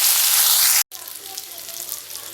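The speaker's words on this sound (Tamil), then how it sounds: "இப்போ இது எல்லாத்தையும் நம்ம லைட்டா ரோஸ்ட் பண்ணி எடுக்க போறோம்." Shallots and curry leaves roasting in oil in a pan give a loud bright sizzle that cuts out abruptly, then returns as a softer, steady frying crackle.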